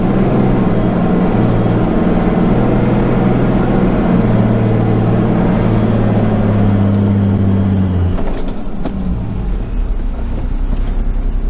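A car engine revs in a loud, sustained drone while stuck in soft sand on a cape track. The strain holds for about eight seconds before easing off into a lower idle.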